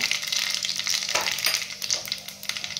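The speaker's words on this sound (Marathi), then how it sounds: "तेल व्यवस्थित गरम झालेले आहे। आता यामध्ये थोडीशी मोहरी टाकून घ्यायची आहे। जिरा ॲड करूया" Mustard seeds and cumin spit and crackle as they fry in hot oil for a village-style Maharashtrian brinjal curry, a steady close sizzle with scattered pops and a brief stir partway through, no voices.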